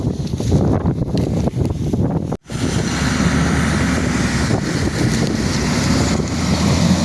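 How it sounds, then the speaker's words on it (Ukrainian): A Kronos Verti-til tillage implement works through a field of corn residue, giving a loud, continuous rumbling roar mixed with heavy wind buffeting on the microphone, with one brief dropout early on. "пішов вертітіл, працює"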